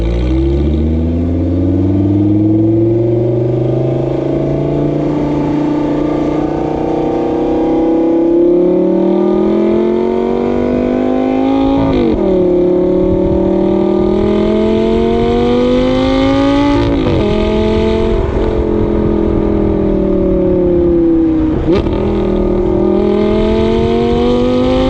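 A car engine runs and accelerates on a crisp morning under a clear sky, its pitch climbing through several gear changes with brief dips between shifts, loud and steady throughout.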